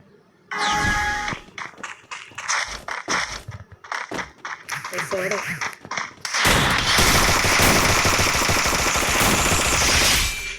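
Shooting video game gunfire comes in rapid bursts of close, loud shots with short gaps, then gives way to a dense, sustained roar of continuous firing.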